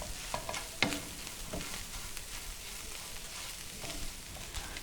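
Chicken with chopped ginger and green chilli frying for haleem, a soft sizzle under scattered spoon-stirring scrapes and clicks, fairly quiet with no talking.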